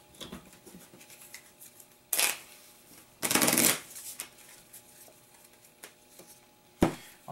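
A deck for the Pathfinder Adventure Card Game is shuffled in short, crisp riffling bursts, two longer ones and a quick final snap, close and clear against near silence.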